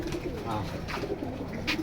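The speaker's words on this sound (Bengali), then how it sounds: "এই হলো আরেকটা কবুতর" A pigeon at a pigeon sale coos in low, soft murmurs under steady background noise, brief and close.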